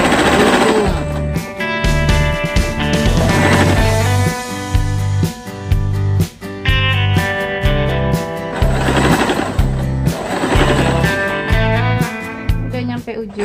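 A sewing machine runs close and loud while stitching fabric to convert a T-shirt into a singlet, with rapid mechanical clatter in short repeated bursts and brief pauses between runs.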